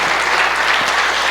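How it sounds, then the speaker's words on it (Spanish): Church congregation applauding together, a dense, loud, steady roar of clapping filling the whole moment. "Puedes darle un aplauso al Señor."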